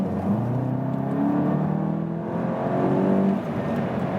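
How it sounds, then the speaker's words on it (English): A VW Golf GTI TCR on a racetrack in sports mode, its engine note rising steadily under acceleration with a whirring, droning tone heard from inside the car, no talk. "track time with the Golf GTI TCR, and we go to the sports mode and"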